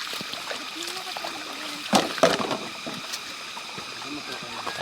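Hikers wade across a clear, shallow third river crossing on a mountain hike, water trickling and splashing steadily with a couple of louder splashes midway as feet move through, voices talking over the flowing stream.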